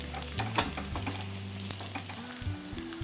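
Semiya pakoda deep-frying in hot oil as pieces are flipped, a steady bubbling sizzle with brief clinks and a low hum underneath.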